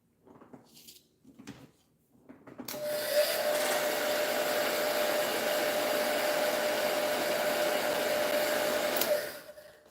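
A hair dryer runs steadily for about seven seconds, close and loud, drying paint on a Clematis flower stencil project, preceded by a few soft handling knocks before it switches on and a quick cutoff at the end.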